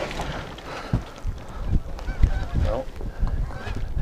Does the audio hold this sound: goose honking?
yes